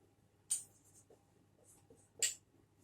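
Two short scratchy strokes of writing on a board or paper during a physics lesson on river-and-boat relative motion, quiet and close, spaced about two seconds apart over a low hum.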